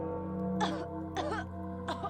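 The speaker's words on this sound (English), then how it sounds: "She's a video game character. Where's she coughing?" A character in the video game Pathologic: The Changeling coughs three times in short, evenly spaced rasping bursts over a low steady game hum.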